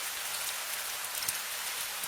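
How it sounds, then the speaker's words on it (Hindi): Steady rain falling, a dense even hiss of drops on surfaces close by, continuous and unbroken with no voices. "करीब 15 मिनट बाद बारिश धीरे धीरे कम होने लगी"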